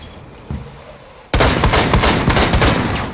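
Video game gunfire during Secure Area gameplay: a single sharp shot, then sudden loud sustained rapid automatic fire.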